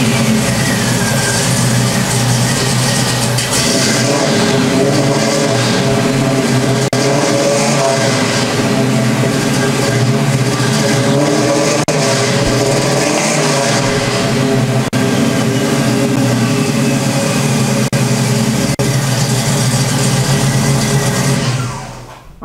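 A 1970 Camaro with a fuel-injected 396 big-block V8 starts and runs, a steady loud rumble with deep low-end throb holding for about twenty seconds before cutting off at the end, with no voices over it.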